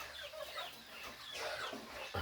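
Farm chickens clucking in a short burst of quick, close calls, fairly quiet, with no talking.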